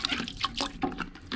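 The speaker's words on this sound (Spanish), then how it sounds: "Entonces esta cosa plástica le vamos a dar una talladita. Así con esta agua con jabón." Plastic paint spray mask being scrubbed in soapy water, with splashing and dripping in irregular close bursts, no talking.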